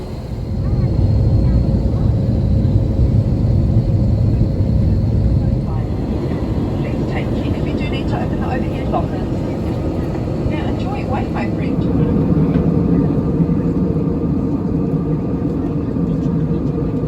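Cabin noise aboard an Air New Zealand Airbus A320neo on the takeoff roll, a loud, steady broadband engine roar and rumble that swells and shifts over several seconds, with faint rattling and a voice speaking.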